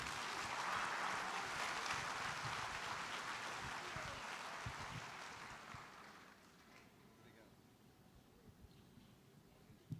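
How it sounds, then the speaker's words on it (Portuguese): Congregation applauding to welcome a pastor at a church celebration service, a dense, steady clapping that fades out after about six seconds and leaves a quiet room. "vamos recebê-lo com um aplauso"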